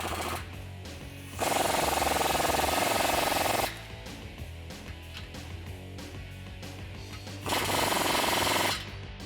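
A power tool with a 15mm socket tightens the exhaust tailpipe clamps on a 2009-2018 Ram 5.7L, rattling hard in two loud bursts with quieter work noise between them.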